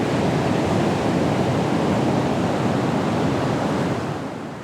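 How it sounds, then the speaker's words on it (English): Broad, steady rushing of ocean surf, a continuous wash of noise that eases slightly toward the end, with no voices. "I smell the salty air, and I hear the waves."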